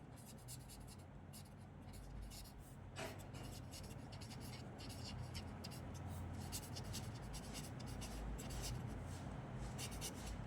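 Close pen-on-paper writing for a Class 10 Real Numbers maths exercise, a steady continuous scratching and rubbing that runs throughout at a fairly quiet level with no talk.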